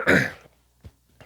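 A person clears their throat once with a loud rasping burst, followed by two brief, softer throaty sounds after short pauses, close to the microphone in a quiet room.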